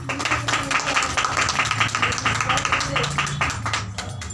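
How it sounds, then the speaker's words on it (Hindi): A small audience claps during a spiritual talk, a quick run of claps with some overlapping voices. "ताली बजाने के लिए।"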